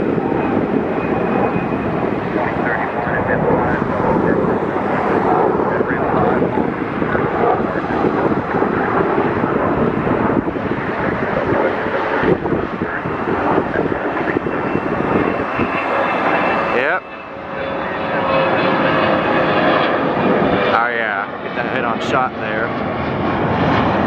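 A JetBlue Airbus A320 airliner arrives at Atlanta airport with a loud, continuous jet roar and heavy wind rumble from the microphone. A person talks over the noise throughout.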